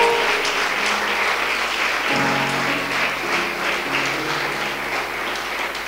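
A church congregation claps together for the Lord, with loud sustained applause close by and a faint sung tone rising underneath.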